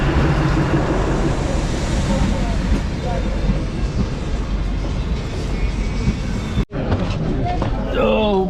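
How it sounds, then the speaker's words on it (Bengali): A Radhikapur–Siliguri DEMU train pulls into a station, its loud diesel rumble and rolling noise filling the platform and easing slightly before a brief dropout; people talk over it near the end. "এই হচ্ছে আমাদের ট্রেন ঢুকে যাচ্ছে রাধিকাপুর শিলিগুড়ি ডেমু"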